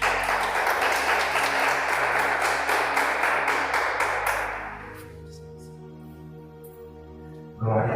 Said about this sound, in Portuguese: Vamos receber o pastor Fábio agora com palmas para ele.